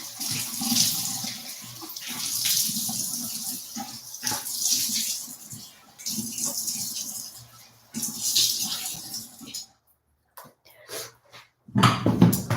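Tap water runs into a bathroom sink as a face is rinsed off, a steady close splashing that comes in bursts and breaks briefly into quiet before restarting.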